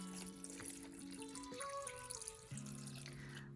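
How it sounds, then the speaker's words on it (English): Tap water runs into a pot of pea and ham soup already holding milk, topping it up to the maximum level: a steady splashing trickle with shifting tones as the level rises, close and fairly quiet, no talking. "And then I'm topping it up with water just to the maximum level"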